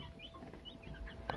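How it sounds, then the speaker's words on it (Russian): Young broiler chicks in an old brooder cheep softly, a scatter of faint high peeps over low rustling, with one louder chirp near the end. "Вот такие у нас цыплятки."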